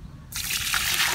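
Water poured from a container onto clay soil inside a bucket, a sudden steady gush starting after a short quiet moment and continuing loudly to the end.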